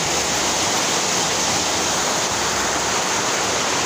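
Steady, loud rushing of floodwater outside a gate in Naujan, Oriental Mindoro, fills the clip, a continuous broad wash with no pauses and no voices.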